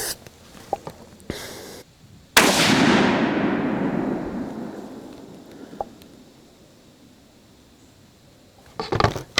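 A single loud 6.5 Creedmoor rifle shot cracks out near the range position. Its boom rolls and decays over several seconds, and a few faint clicks and knocks come before and after it.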